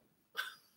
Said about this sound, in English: I'm not coughing because it's hot. I'm coughing because it's fucking gross.